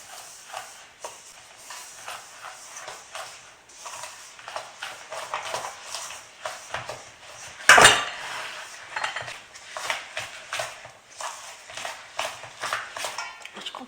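Grated coconut stirred with sweetened condensed whole milk in a bowl: steady close scraping and clinking of a spoon against the bowl, with one louder knock partway through.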